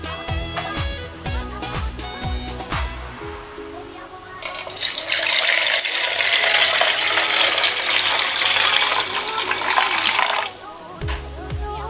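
Water pours from a bottle of demineralized water, about 300 ml pulled off for a tutorial, as a steady, loud splashing stream that lasts about six seconds. Light clatter comes before it and it cuts off sharply at the end.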